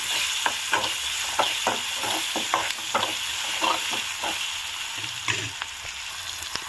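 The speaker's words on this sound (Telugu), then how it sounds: "ఇప్పుడు ఇందులోకి ఒక ఆనియన్ కట్ చేసి పెట్టుకుంది వేసుకుందాము పచ్చి వాసన పోయేంత వరకు వేగనిద్దాము" Chopped onion fries in a pan for a yogurt chutney, a steady close sizzle broken by repeated scraping stirs at a loose, regular pace.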